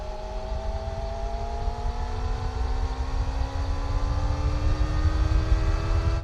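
Kawasaki ZX-25R four-cylinder motorcycle engine at high rpm while riding, a loud, continuous whine climbing steadily in pitch over low wind rumble, close and uninterrupted.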